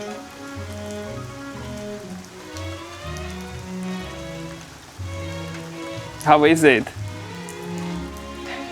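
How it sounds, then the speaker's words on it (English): Steady rain patters on a surface at a cottage in Central Europe, continuous and fairly close, with no thunder, while people talk over it and one voice rises briefly in excitement. "it looks like it's just a rain shower"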